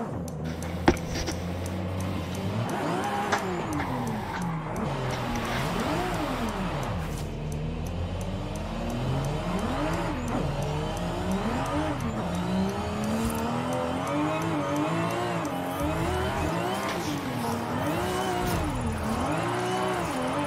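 Car engine in the racing video game Forza Horizon 5 during mountain drifting, revving continuously with rising and falling pitch sweeps as the throttle is worked, loud and steady for the whole stretch with no talking.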